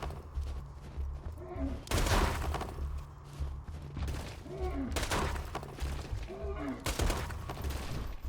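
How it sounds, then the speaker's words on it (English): Rapid SMG gunfire in Borderlands 2, several loud bursts of automatic fire spaced a few seconds apart over a constant low game hum, mixed with impact and debris crackles. "Use the SMG to shoot the Mong's projectiles."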